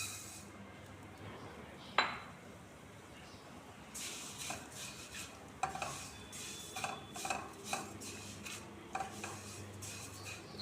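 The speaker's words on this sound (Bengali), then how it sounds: "আর এই কড়াইতে যে ঘি আছে তার মধ্যেই সিমুইটা ভেজে নিই।" Thin vermicelli frying in ghee in a wok, with soft sizzling beneath frequent clinks and scrapes of a utensil against the pan, quiet and close.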